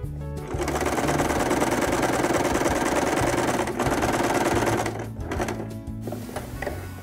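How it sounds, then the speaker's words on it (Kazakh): A sewing machine stitches a felt bag with a loud, fast, steady mechanical whirr that runs for about four seconds, then breaks into shorter stitching bursts and stops. "Енді үстіңгі бөлігінен 3-4 сантиметр қайтарып, бірнеше тігістер тігіп шығамыз."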